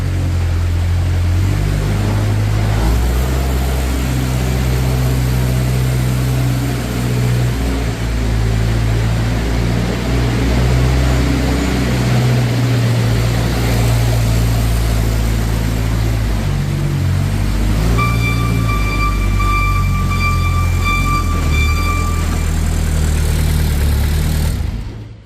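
A 2014 Moffett M55 truck-mounted forklift runs steadily as it drives around a shop, a loud, close, continuous engine drone with a brief electronic beeping tone near the end.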